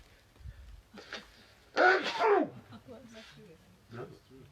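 A person sneezes once, sharply and close, amid murmured talk and light background noise, with pollen in the outdoor air causing the sneezing.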